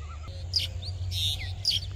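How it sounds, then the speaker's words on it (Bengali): Several birds call and chirp in a foggy village morning in rural Bangladesh, short bright whistled notes coming in bursts over a steady low rumble, moderately near. "পাখির ডাকাডাকি"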